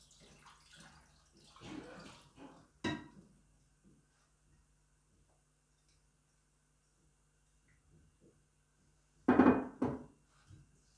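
Marinade poured from a container over washed rabbit legs in a bowl, heard as a couple of brief liquid splashes near the start and a louder pour later, with quiet pauses between.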